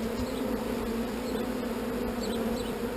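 Honeybees from an artificial swarm hum in a dense, steady buzz, close and continuous, with no voices over it.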